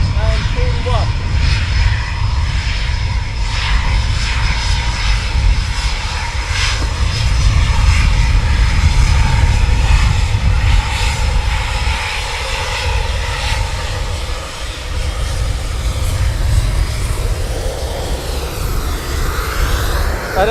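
Military jet aircraft taxiing at RAF Coningsby, a loud continuous engine roar and whine that swells and holds steady throughout, close by and dominating the scene.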